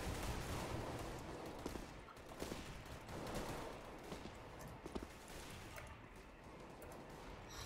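Continuous gunfire and fusillades in the video game CS:GO on a JailBreak server, a dense, steady wash of rapid shots and crashes at moderate loudness throughout.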